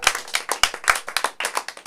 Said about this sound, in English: You can give yourself a little smattering of applause